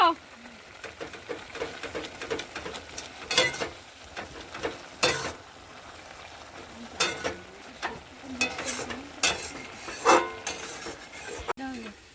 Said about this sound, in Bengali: দিয়ে এবার একটু নেড়ে চেড়ে দেবো